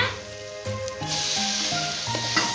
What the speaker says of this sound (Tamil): வேக வைத்த வாழைப்பூவை போட்டுக்கலாங்க